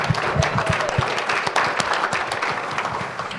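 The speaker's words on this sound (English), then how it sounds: "I'm going to ask you to give him a round of applause for everything he did." A seminar audience gives a round of applause, a dense burst of many hands clapping at close range, steady throughout and slightly tapering at the end.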